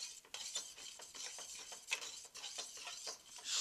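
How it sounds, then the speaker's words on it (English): A cooking fork stirs capellini through marinara sauce in a pot, giving a steady run of close, soft wet scrapes and clinks that repeat rhythmically with a faint sizzle underneath. "Stir it around."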